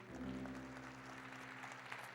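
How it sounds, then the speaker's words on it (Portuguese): A church congregation applauds during a worship service, a steady wash of clapping over sustained low musical tones, lasting a couple of seconds. "A igreja aplaude ao Senhor."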